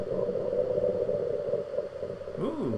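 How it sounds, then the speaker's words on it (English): Tiger growl processed with an echo delay effect, a low rumbling tone that repeats and smears into trailing copies before a short pitched sweep near the end, loud and alone. "every single time the tiger growls, it would also give a delay of the tiger."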